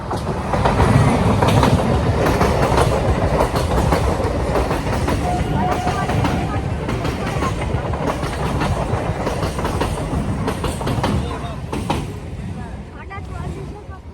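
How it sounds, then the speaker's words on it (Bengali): A train arriving and passing close by, loud rumbling with rhythmic clickety-clack of wheels on rails that holds steady before easing off at the end, with a faint squeal partway through. "দেখতে দেখতে আবারও একটা ট্রেন চলে এসেছে"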